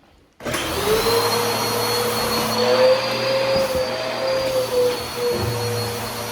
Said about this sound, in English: we're gonna get a vacuum